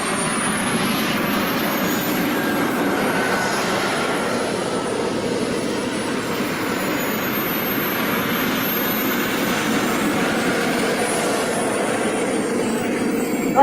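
A MiG-17 jet aircraft flying, its steady broadband engine roar holding for the whole stretch with faint high whining tones drifting above, constant and fairly loud with no talk.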